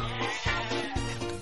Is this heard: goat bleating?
yes